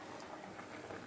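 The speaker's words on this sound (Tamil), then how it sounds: "குழம்பு கொதிச்சிட்டு" Thanjavur-style tamarind curry boiling in a pot: a faint, steady bubbling simmer with small irregular pops, quiet and close, with no talking.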